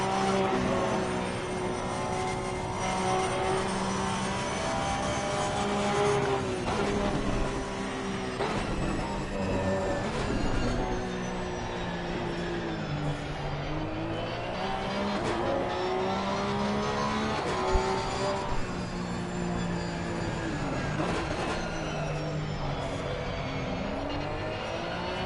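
A Porsche GT3 race car engine in a racing video game at Mount Panorama drones loudly and continuously, its pitch rising and falling through gear changes alongside other cars, with no voices over it.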